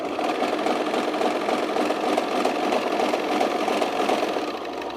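Close, loud sewing machine stitches jeans with red thread at a short stitch length, a continuous rapid mechanical hum and needle clatter running unbroken with no talking.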